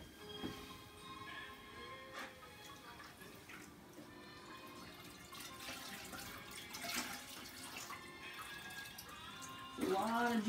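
A kitchen sink tap runs water during turkey preparation, giving a steady faint splashing stream with some clinks and a louder gush near the end.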